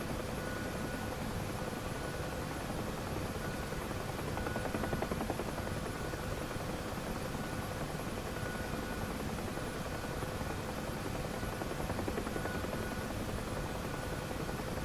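A Huey helicopter in the DCS flight simulator flies with a steady, dense rotor and turbine roar, loud and close. The noise holds constant, with faint periodic blade chop and no voices.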